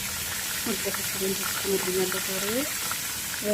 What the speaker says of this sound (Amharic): ለድንች እና ለካሮት ለባድጃን ማን ለጀዘር አስተካክያለሁ። እንጠብሳለን ማለት ነው።